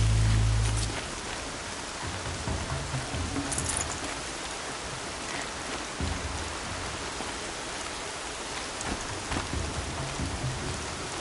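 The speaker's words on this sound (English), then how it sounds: "Raining like it's trying to wash everything away." Steady rain pours in a PS4 role-playing game set in the northern land of Norland, a dense continuous hiss with a brief low rumble at the start and no voices.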